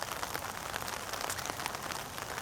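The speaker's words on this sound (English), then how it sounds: "hope it's not raining where you are, although I think it's raining pretty much everywhere" Steady rain patters on surfaces at a peaceful campground in Cheesequake State Park, New Jersey, a dense, even hiss of drops that stays constant, with no voices.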